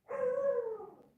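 A single dog gives one short, drawn-out howling bark, faint and somewhat distant, alone in quiet.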